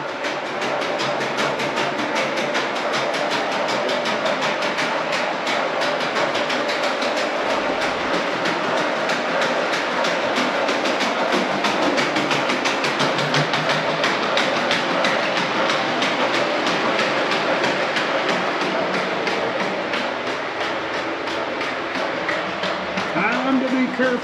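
A Texas and Pacific train rolls past the Marshall depot, a loud, continuous rumble with clattering wheels filling the whole stretch and easing slightly near the end.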